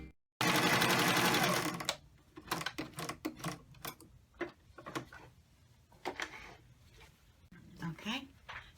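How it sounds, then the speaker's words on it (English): A sewing machine appliqués around a fabric cupcake top on a pillowcase dress, whirring in a loud continuous burst at the start, then stitching in short, uneven runs with pauses and light clicks. "Now we're going to applique around the top of the cupcake."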